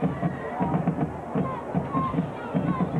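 A packed crowd murmurs in the stands at a 1996 high school football game between the Broken Arrow Tigers and Sapulpa Chieftains, with a commentator talking over the steady babble.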